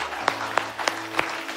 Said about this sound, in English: Can we give God one more hand clap of praise?